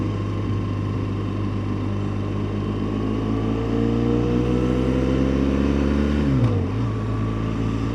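A car engine pulls steadily under acceleration on a road, its drone rising in pitch over several seconds before a brief gear change near the end, continuous and close with no talk.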